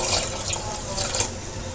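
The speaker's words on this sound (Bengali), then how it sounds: "এখন সিদ্ধর জন্য পরিমাণ মতো পানি দিয়ে নেব।" Steady splashing of water being poured into a pot of beef for boiling, a continuous close-up rush with small bubbling spurts.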